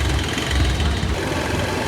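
A motorbike engine idles close by just after starting, a steady low throbbing rumble with no break.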